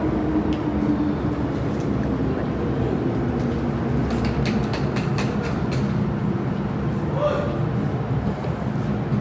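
A former Kowloon-Canton line train runs at Sheung Wan Station, giving a continuous low rumble of rail cars with brief high squeals and clicks. A voice talks over the noise at times.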